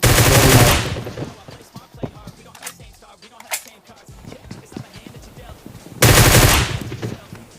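Bursts of Groza rifle fire in PUBG, loud rapid automatic volleys at the start and again near the end, with quieter battle sounds and distant shots in between.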